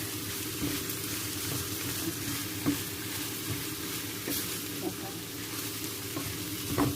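Pad thai with chicken and carrot stir-fries in a hot pan with a loud continuous sizzle, a low hum beneath it, and intermittent scrapes and clinks of the spatula.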